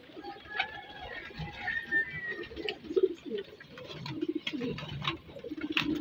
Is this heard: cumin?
no